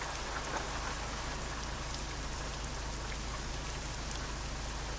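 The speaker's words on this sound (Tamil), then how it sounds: "இன்னும் மழை பெஞ்சுதாங்க இருக்கு." Steady rain from the video game Euro Truck Simulator 2, a constant dense hiss of drops pattering on surfaces with a low rumble underneath, even and unbroken throughout with no talking.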